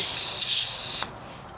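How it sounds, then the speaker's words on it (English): An aerosol can sprays a steady, loud hiss into the carburetor of an old tiller that sat outdoors for years with bad gas, holding for about a second before cutting off abruptly. "I'm going to spray in here and it should drip out the main jet there,"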